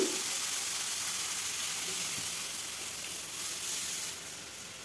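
Kulthi dal (horse gram lentils) hitting hot oil with grated ginger, producing a loud, steady close-up sizzle and hiss that eases slightly toward the end.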